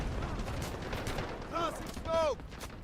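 Gunfire in the Delta Force video game during a night firefight, a steady wash of distant shots with a few brief whistling tones midway, voices talking over the top.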